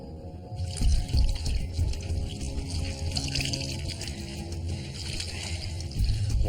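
Salty water runs and splashes steadily, a continuous close hiss of flowing liquid with faint dripping and background rumble, no one speaking.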